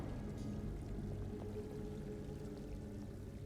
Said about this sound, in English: I like this fountain. It's a pretty fountain.